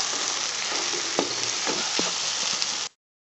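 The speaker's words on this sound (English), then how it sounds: "Mixing it well, tilting it over and over so that the masala gets all over the chapatis." Chapati pieces stirred with scrambled eggs and masala in a hot pan: a steady sizzle broken by a few scraping, tapping stirs, ending abruptly.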